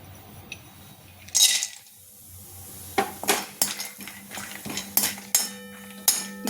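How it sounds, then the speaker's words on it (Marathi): Almonds roasting in ghee in a pan for dinkache ladoo, stirred with a metal spoon: a string of close, sharp clinks and scrapes against the pan in irregular bursts, with no talking. "बदाम रोस्ट व्हायला थोडासा वेळ लागेल, पण सतत हलवत राहायचं आपण।"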